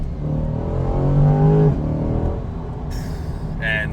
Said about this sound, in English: put it in track mode, hit this button twice, mash the gas, and then hold on for dear life